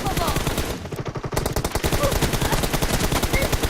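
Rapid automatic gunfire in the video game PUBG, dense bursts of shots rattling almost without pause and a brief gap early on, with game voice announcements mixed in.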